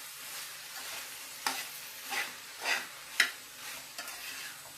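Pieces of ivy gourd frying with grated coconut in a pan, a soft steady sizzle broken by several sharp scrapes and clinks as a utensil stirs them, close and moderately quiet.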